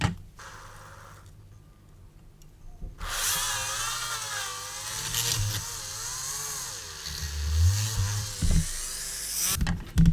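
A small drill bores holes in the plastic bottom panel of a Tamiya 1/48 F-14 model kit, a whining motor with wavering pitch running for several seconds after a quiet start, close and alone.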